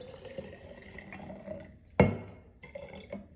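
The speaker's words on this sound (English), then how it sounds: "take your very warm water and pour" Very warm water poured into a glass jar, gurgling and splashing in several short bursts, with one sharp clink of glass midway, close and clear.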